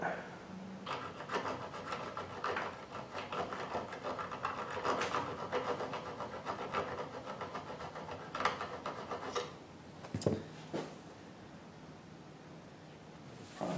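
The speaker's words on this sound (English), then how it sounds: "So I'm filing down." A metal file rasps steadily across a shotgun's front sight bead, repeated scraping strokes close by and fairly quiet, with a few sharper clicks near the end.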